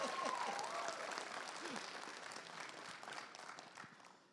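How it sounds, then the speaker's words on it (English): An audience at a GalaxyCon Richmond 2020 convention Q&A claps in a sustained round of applause that fades gradually over a few seconds, heard from a distance at low level. "That deserves a round of applause"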